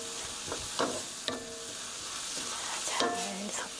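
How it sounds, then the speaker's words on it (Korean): Tofu sauce and rice bowl ingredients are gently stirred together in a pan, a soft scraping and mixing close by over a light steady sizzle, with a few brief utensil clinks. "고루 살살살 섞어주시고요"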